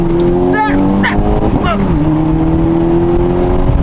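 A car accelerates close by, its engine revving up with rising tones and a gear change, while a voice speaks briefly over it.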